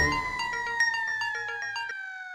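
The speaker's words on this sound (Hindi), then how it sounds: "भिड़े अंकल गोली फोन नहीं उठा रहा" A phone ringtone plays a repeating electronic melody, clear and steady for about two seconds, then cuts off with no answer and no voices.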